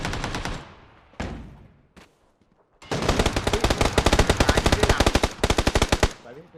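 Automatic gunfire rings out in PUBG, first in a few short bursts and then in long, rapid, loud strings of shots, with faint voices underneath.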